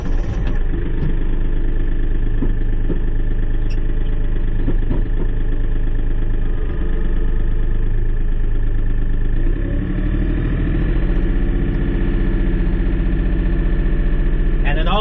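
A Kubota or Kioti tractor engine runs at 1800 RPM with a steady low rumble close by, its hum constant throughout, with occasional clunks and a slight rise near the end.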